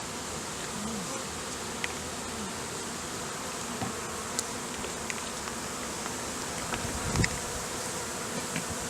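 Dense, continuous buzzing of many honey bees confined in a jar close by, a steady drone with occasional small taps and rustles.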